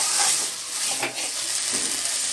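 Black taro frying dry in a pan as garam masala powder is stirred through it, giving a steady close sizzle with soft scraping stir strokes and no talk.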